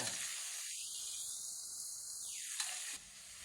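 Pork stir-frying in a pan gives a steady, close sizzling hiss that sharpens and then thins out near the end, with no talking.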